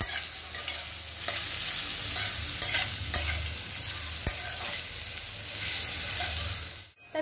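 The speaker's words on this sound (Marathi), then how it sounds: "तर कांदे आपल्याला छान परतून घ्यायचे।" Four to five sliced large onions sauté in a pan for a restaurant-style chicken handi, with soft sizzling and repeated scraping stirs of a spoon, close and clear, without speech.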